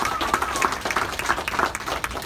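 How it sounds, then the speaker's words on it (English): A crowd claps at the Arc Thrift Store ribbon cutting in Longmont, a lively, close patter of many hands with a brief whistle-like tone near the start and a few voices mixed in. "So let's give the city a round of applause."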